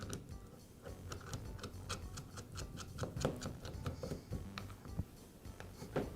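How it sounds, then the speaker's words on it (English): Small screw being driven in by hand to secure the recoil cap and coil spring on a Shindaiwa backpack blower, a steady run of quick close ticking and ratcheting clicks at low level. "and I'll secure it with the screw"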